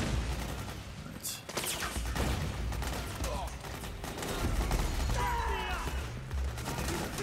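Battlefield gunfire in Metal Gear Solid 4, a mansion war scene, with bursts of shots and booms scattered through a dense, continuous din of combat; a voice talks over parts of it.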